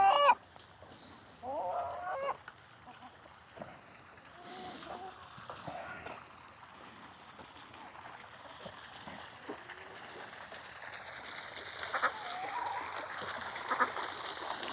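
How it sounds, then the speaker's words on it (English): Chickens cluck and squawk on and off at close range, with some rustling and movement around them; no one speaks. "Chickens."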